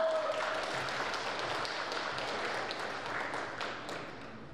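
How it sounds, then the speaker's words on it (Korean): Audience applause at a committee inauguration ceremony, welcoming the ethics committee chairman; a dense, steady wash of many hands clapping that gradually fades toward the end. "정명환 윤리위원장님 나오실 때 큰 박수로 맞아주시기 바랍니다."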